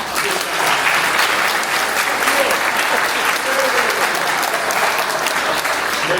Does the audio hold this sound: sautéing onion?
no